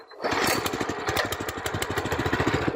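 A walk-behind tractor engine running in first gear while tilling garden beds, a loud, close, steady chugging putter with a fast regular pulse that holds even throughout, with no talking.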